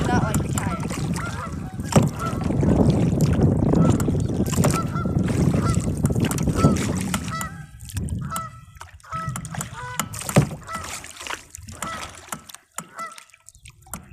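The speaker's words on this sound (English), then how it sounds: "The geese do not like the kayak." Geese honk repeatedly near a kayak on the water, their calls coming in scattered bursts over rumbling water and paddling noise, loud at first and then sharper and more broken.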